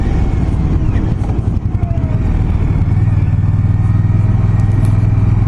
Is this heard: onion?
no